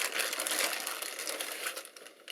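A resealable plastic baggie holding screws and small parts crinkles steadily while handled during a graphics card unboxing, a dense close rustle lasting throughout with no voices.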